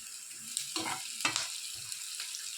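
Cut green chillies fry with onion and turmeric in a pan for an Indian egg masala, giving a soft, close sizzle punctuated by a few stirring scrapes, with no talking.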